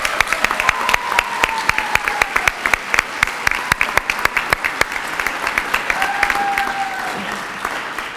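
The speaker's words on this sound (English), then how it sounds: "Let's give these schools and all of the participating schools a big round of applause." Applause from an audience at a martial arts school awards event, steady dense clapping with sharp individual claps standing out, sustained throughout, with a couple of faint whistles riding over it.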